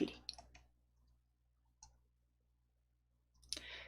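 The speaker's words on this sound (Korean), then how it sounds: "쉬프트 키 누르시고 클릭해서 4개의 객체 다 선택하실게요." Soft mouse clicks while Shift is held to select objects in PowerPoint, a few faint separate clicks spaced through a quiet stretch, close to the microphone.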